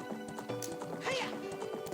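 Hoofbeats and a horse's whinny in the video game Ocarina of Time: a quick clip-clop rhythm runs under a rising, wavering neigh, all clear and close against a faint tonal background with no speech.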